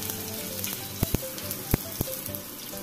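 Garlic drops into hot oil already holding bay leaf, cumin and black mustard seeds for palak khichdi, a soft steady sizzle with a few sharp pops and crackles.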